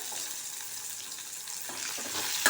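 Soya bean gravy ingredients, including a few cashews, frying in a pan with a steady close sizzle and occasional stirring scrapes toward the end, no voices.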